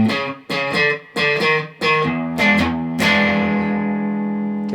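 Electric guitar with an effects-laden, slightly distorted tone plays a bluesy turnaround riff in E: several separate picked phrases, then a final chord left ringing out, with no talking.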